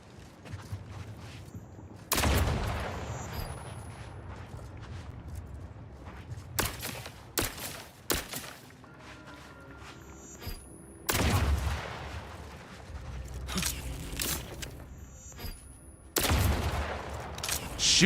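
Loud bursts of gunfire from Outer Worlds 2 erupt in several sharp volleys separated by quieter gaps, with mechanical clicks and creaks between the shots.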